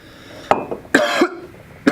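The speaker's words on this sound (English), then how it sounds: "I'm going to clear my throat for this one" Someone close by clears their throat and coughs in three short, sharp bursts.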